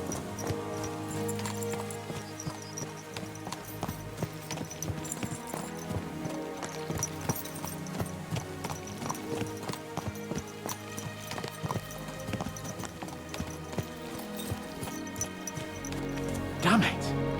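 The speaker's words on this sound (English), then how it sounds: "Let's really spur these horses on, eh?" Horses ridden at a gallop in the medieval Bohemian game Kingdom Come: Deliverance II, hooves clip-clopping in a steady rhythm beneath continuous game music and talk.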